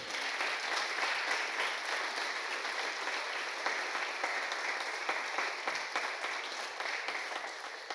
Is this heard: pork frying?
no